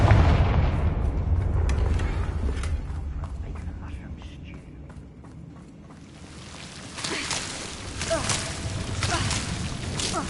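Fiery spell blasts from the Confringo curse in the Hogwarts Legacy video game, a run of sharp bursts and booms over a low rumbling bed, with voices talking through it.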